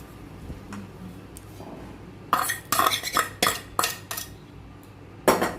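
Utensil scraping and stirring a spice mixture with asafoetida in a kadai for vegetarian dhokar dalna, heard as a run of sharp, close metallic clinks and scrapes in quick bursts after a quieter start.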